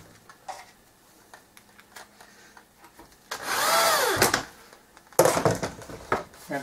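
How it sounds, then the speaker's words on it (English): Screws driven into plywood with a power drill while building a photography turntable, two close, loud bursts of whirring drive, the first about two seconds long and the second shorter, after quiet handling clicks. "For added measure, I used two extra screws to hold the plywood from falling."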